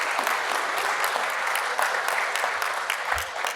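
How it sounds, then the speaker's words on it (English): An audience at a NIOSH leadership event breaks into steady applause, a dense wash of many hands clapping continuously throughout at moderate distance. "Give yourselves a round of applause."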